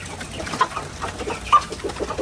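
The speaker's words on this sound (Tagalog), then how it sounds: "30 hens lang po yung inalagaan natin dito na mga imported parent stocks na mga D853" Imported D853 parent stock hens in a coop, soft scattered clucks and short calls coming in irregular bursts at moderate distance, with no talking.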